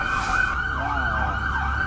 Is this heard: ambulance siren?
yes